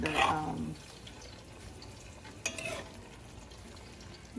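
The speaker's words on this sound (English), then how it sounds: "onions get simmered a little bit" Onions and peppers simmering in a pan with vinegar for Jamaican escovitch fish, a soft sizzle and bubbling under brief stirring and utensil clatter, faint and close.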